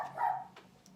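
A dog barks once in the background, a short, moderately faint yap in an otherwise quiet room with no speech.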